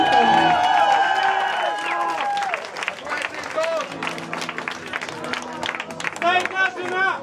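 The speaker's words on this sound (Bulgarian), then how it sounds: "Къде ви са аплодисментите?" An audience at a Bulgarian evening show breaks into loud, sustained applause and cheering, a dense crowd wash mixed with music and babble throughout.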